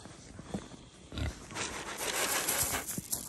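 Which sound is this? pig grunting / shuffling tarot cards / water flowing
pig grunting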